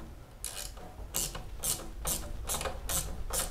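A ratchet clicks in repeated quick bursts while tightening the bolts of an Arrow exhaust on a Vespa GTS 300 hpe scooter, about six close, bright strokes at a steady rhythm with no talking.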